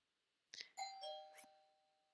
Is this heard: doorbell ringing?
yes